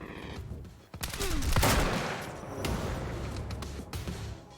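Shotgun blasts from the video game Quantum Break, several booming shots in quick succession with a sustained roar of gunfire and impacts, loud and close, no talking.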